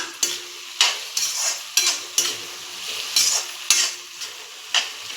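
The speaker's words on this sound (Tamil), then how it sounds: "ரெண்டு பச்சை மிளகா கூட இதையும் நல்லா கலந்து வதக்கி விட்டுக்கலாம்" Green chillies are sautéed and stirred in a pan, and a spoon scrapes and clatters in about ten regular strokes over a soft, steady sizzle, close up with no talk.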